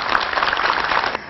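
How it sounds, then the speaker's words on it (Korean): A studio audience at a Korean TV talk show claps together in a brief burst of applause that cuts off abruptly. "이분들이 또 힘내시라고 큰 박수, 크리스티가 주세요."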